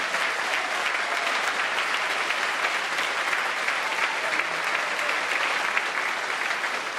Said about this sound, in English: Let's give these 3 a round of applause, please